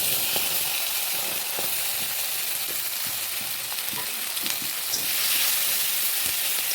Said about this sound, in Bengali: মশলা ভালো করে কষিয়ে নেব